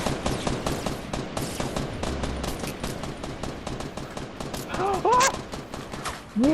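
Rapid bursts of automatic gunfire in the video game Fortnite crackle almost continuously, with sharp repeated shots and a few louder bangs near the end.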